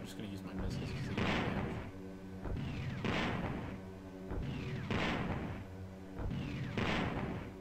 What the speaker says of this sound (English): I'm just going to use my missiles to see.